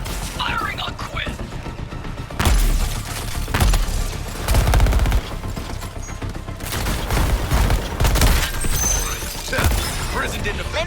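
Gunfire rattles through a Suicide Squad video game battle: bursts of rapid shots and heavier booms arrive in waves over steady game noise, loud and close, with a voice speaking over part of it.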